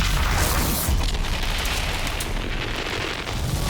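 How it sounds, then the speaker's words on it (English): A grenade goes off in Wolfenstein II, a heavy continuous boom and rumbling blast wash lasting several seconds, loud and close with no talk over it. "Why did you throw a grenade out, dude?"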